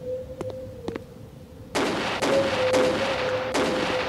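Gunfire aimed at a ghost in a haunted-house video game: a few light taps early, then a loud burst of rapid shots from about 1.7 seconds, recurring in waves over a steady tonal hum.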